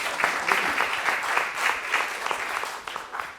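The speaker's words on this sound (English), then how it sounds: "big round of applause for the debate" A short burst of steady crowd applause after a business debate, many hands clapping evenly before tapering off.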